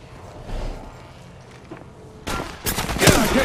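Rapid automatic gunfire from the mobile battle-royale game Apex Legends Mobile erupts after some quieter footsteps, growing into loud, sustained bursts of shots at close range.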